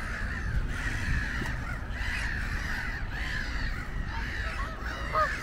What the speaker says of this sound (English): It's a lot of different birds, nicely peaceful together.